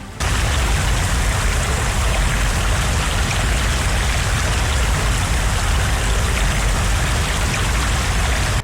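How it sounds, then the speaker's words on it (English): Flood water rushes through a street in India as a loud, unbroken roar of churning water, steady and close from start to finish. "In the heart of India, a once bustling street is now a raging river."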